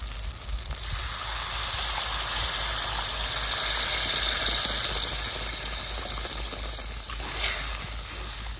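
Water poured into a pan of frying poppy seed spice paste, giving a loud, continuous hiss and bubbling sizzle that holds steady for several seconds, with a low hum in the background.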